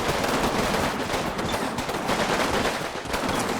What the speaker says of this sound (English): Grenade going off the middle of them as they're starting to run.